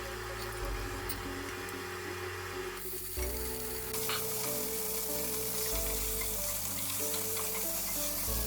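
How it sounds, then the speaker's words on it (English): Meat hits hot sunflower oil in a pressure cooker and is stirred, producing a dense, loud sizzle that surges sharply partway through and then carries on as a steady, hissing fry. "Add the meat into hot oil and stir."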